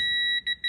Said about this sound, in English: right now we have it set to beep at 50